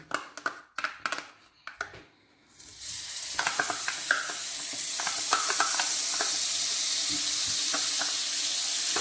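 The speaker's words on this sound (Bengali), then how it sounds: "সেই রসুন পেস্টটা এর মধ্যে আমি দিয়ে দিচ্ছি।" Garlic paste hits hot oil in a pan for a sausage and vegetable dish, starting with a few clattering stirs and scrapes before a loud, steady sizzle takes over and continues evenly with occasional utensil clicks.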